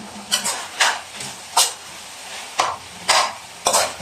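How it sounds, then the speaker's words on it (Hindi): Keema frying in a pan as tomatoes go in, with repeated scraping stirs over a steady close sizzle, roughly six sharp bursts spread unevenly across the stretch. "उसके बाद हम टमाटर डाल देंगे इसमें।"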